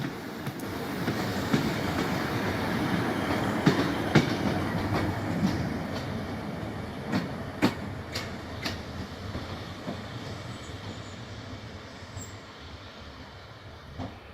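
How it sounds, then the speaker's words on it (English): A two-car diesel multiple unit train rumbles into Crediton station in Devon and slows, with rhythmic clicking of wheels over rail joints and a low engine drone that fades slightly toward the end. "here a two-car unit arrives at Crediton from Exeter"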